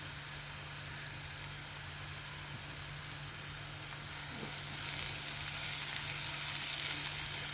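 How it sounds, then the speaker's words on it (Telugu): Onions frying in a pan, a steady dense sizzle with a low constant hum underneath, growing slightly louder and brighter toward the end, close and unbroken. "ఉల్లిపాయ వేగిపోయినాయండి"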